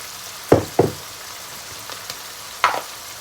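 Minced beef stir-fried in a pan with oyster sauce gives a few sharp spatula knocks and scrapes against the pan, two close together then one later, over a soft background hiss.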